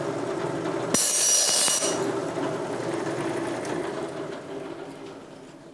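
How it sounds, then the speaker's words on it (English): A saw with a coarse tooth blade bites into thin material in a machine shop, giving a sudden harsh, loud rasping burst about a second long, then a steady machine hum continues. "the noise associated with cutting these thin materials with a coarse tooth blade is enough to be a danger in the shop"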